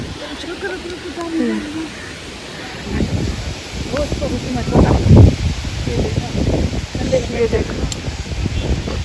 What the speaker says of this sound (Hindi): वाह क्या मस्त हवा चल रहा है यार